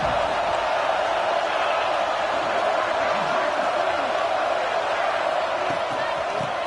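A dense home stadium crowd at an NCAA 26 college football game roars in a constant wash of noise, with a voice faintly audible over the roar.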